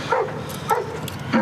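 A police dog barks three times in short, sharp, evenly spaced barks, fairly close and loud, during a police arrest.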